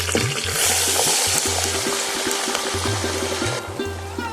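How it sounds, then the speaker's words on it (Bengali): Soaked black-eyed beans tip into a pot together with their soaking water, a loud, continuous pour and splash that holds steady and then thins out toward the end. "এর মধ্যে দিয়ে দিচ্ছি জল সমেত বরবটি কলাই"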